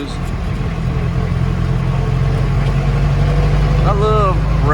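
A jeepney engine hums on a slow ride, a low, steady idle-like rumble heard close from the front seat, with faint other noises over it and a brief squeal near the end.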